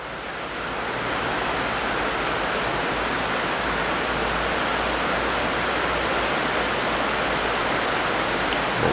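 Heavy rain pours down steadily in St Lucia, a dense, loud, continuous hiss and roar that swells in over the first second and then holds without a break.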